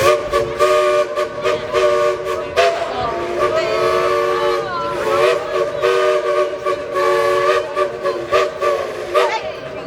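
A steam train whistle at Dollywood theme park plays a tune of sustained, loud tonal blasts with short breaks between notes, over rail noise.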